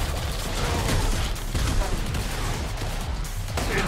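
Gunfire and a grenade blast in the video game Killing Floor 2, dense rapid shots rattling continuously with a dull burst in the mix, loud and busy.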